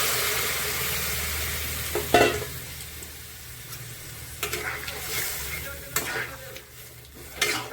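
Bitter gourd and potato curry cooking in a pan after water is added, a continuous sizzling hiss broken by several sharp scraping and knocking stirs against the pan.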